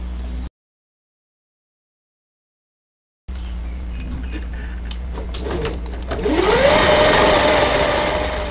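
A sewing machine stitching fabric for a doll: after a brief silence its motor hums steadily, then revs up into a loud, fast whir of continuous stitching.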